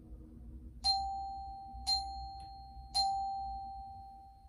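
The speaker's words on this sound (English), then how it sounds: "I have this chime that I'm going to chime three times for the Trinity." A single chime struck three times at even intervals in a quiet room during a Sunday school gathering, each bright ringing strike decaying slowly before the next.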